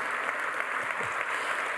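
Audience applause in a church sanctuary, a dense, steady wash of clapping that fills the whole moment at close range with no voices on top.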